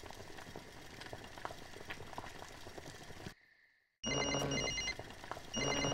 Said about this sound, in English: I'm gonna use the phone and try to call Will Anderson